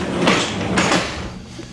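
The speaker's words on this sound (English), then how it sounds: "Go ahead and close the door from the inside if you want." The cargo door of a 2025 Chevrolet BrightDrop electric van is closed from inside, giving two quick, close, solid clunks in rapid succession.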